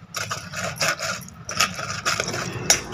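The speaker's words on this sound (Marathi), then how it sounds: "मॅशरनं आपल्याला हे सीताफळ असे फिरवून घ्यायचे आहेत, म्हणजे ह्याचा गाभा सगळा निघून जातो" Custard apples being mashed with a masher to free the pulp, giving a repeated rough rubbing, grinding scrape in short rhythmic strokes, close and fairly loud with no talk.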